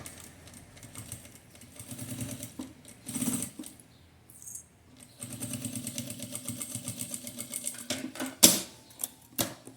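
A sewing machine stitching a fabric phone holder with a zipper, running in bursts of rapid mechanical chatter with short pauses and a few sharp clicks near the end, close and with no talk.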